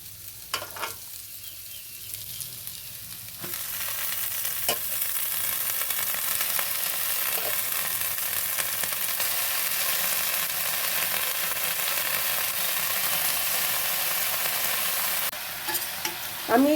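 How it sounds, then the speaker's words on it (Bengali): Bottle gourd greens frying with potatoes in turmeric and salt, a steady close sizzle that swells after a few seconds and holds, with occasional spatula scrapes and stirring clicks. "এবার আমি লাউ শাকটা দিয়ে দেবো।"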